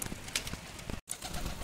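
Soft coos from fancy pigeons gathered for their morning feed sound close by, repeated in short bursts, with a brief dropout partway through.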